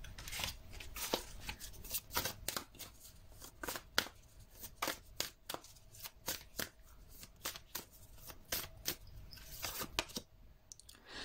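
Tarot cards are shuffled in a steady run of crisp riffling flicks and soft slaps, close by and fairly quiet, with no voices.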